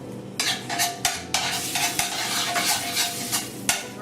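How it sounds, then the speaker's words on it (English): Scallops with their juices sauté and brown in a pan, a steady close sizzle broken by repeated scraping stirs and light utensil clinks against the pan. "So we'll just let that saute up and brown up."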